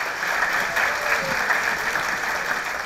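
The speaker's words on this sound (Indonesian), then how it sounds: "Tepuk tangan untuk kita semua." Steady applause from a campus audience at a talk show taping, a sustained wash of clapping with no voices, holding at an even level throughout.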